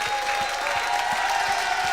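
Steady, dense audience applause filling the room for a musical performance, loud and continuous throughout with no break.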